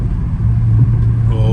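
A Dodge Charger Scat Pack's engine drones loud and close from inside the car on a rainy drive, a low rumbling note that rises slightly and dips as it downshifts, with a brief voice.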